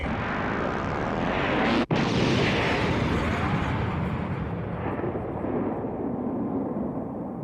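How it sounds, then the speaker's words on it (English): A single deep cannon blast booms and then rolls on as a long, loud rumbling roar that fades slowly, with a short gap near the start and no voices. "After the cannon fired, everyone stopped their work and cheered"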